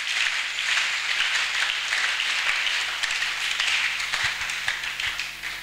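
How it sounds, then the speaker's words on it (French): A church congregation at a worship service applauds together, a dense, sustained burst of many hands clapping that fills the room at steady loudness throughout. "Acclamons d'abord pour la gloire de Dieu."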